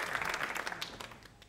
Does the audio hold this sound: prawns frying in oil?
no